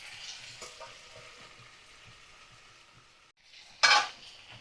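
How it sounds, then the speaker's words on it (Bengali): Pumpkin, potato and pui shak fry over medium flame in a pan, giving a soft continuous sizzle with a brief louder hiss and clatter near the end. "ভালো করে দেখো ভাজা করে নিচ্ছি কুমড়ো আর আলু"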